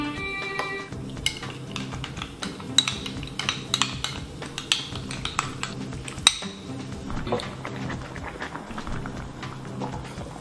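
Rice cake and sauce with anchovies and kelp stirred in a pot, giving repeated close utensil clinks and scrapes against the metal over a steady background hum.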